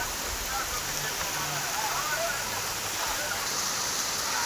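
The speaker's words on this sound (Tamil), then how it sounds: "மழை பெய்யுதுடா" Steady heavy rain falling in a village, a dense even hiss that holds throughout with faint voices and low rumbles beneath it.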